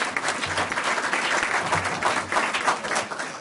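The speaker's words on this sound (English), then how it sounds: "The fact that you got an applause means that everybody knows what I know" Steady audience applause fills the space, dense overlapping clapping at an even level throughout, with a few faint voices mixed underneath.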